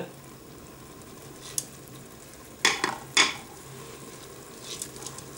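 Mushroom risotto being stirred in a Cookeo multicooker, with a low steady cooking hiss and a few sharp spoon scrapes against the pot.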